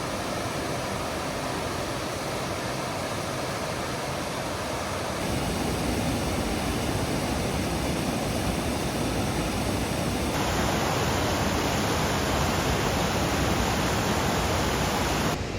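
Steady broadband roar of a waterfall in the Yosemite backcountry, a constant rushing wash of water heard for the whole span with no voices over it.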